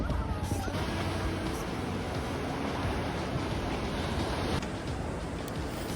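Ocean waves and breeze along a coastline, a continuous broad wash of surf with wind buffeting the microphone, steady throughout with no clear speech.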